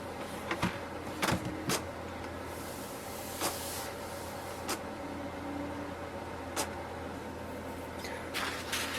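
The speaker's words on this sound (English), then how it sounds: "You will see here it's saying like printing the alignment page. So just wait for the page to come out." An HP DeskJet 3755 inkjet printer printing an alignment page, a soft continuous mechanical whir and hiss punctuated by sharp clicks and clunks of the carriage and paper feed, fairly quiet and close.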